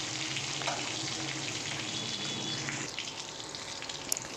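A hilsa fish head fries in hot oil with a dense, continuous sizzle and crackle, close and fairly loud, with a few faint clinks near the end and no talking.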